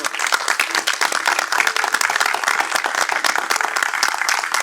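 A church congregation claps enthusiastically during a pastor's sermon, producing dense, rapid, continuous applause that holds steady from start to finish.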